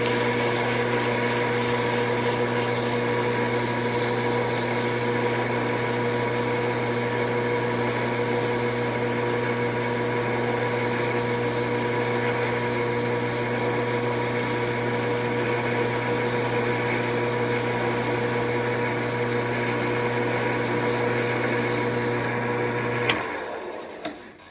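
A lathe spins an AR-15 pen blank while it is sanded, a steady high whirring hum with a constant tonal drone that runs unbroken for over twenty seconds before winding down at the end.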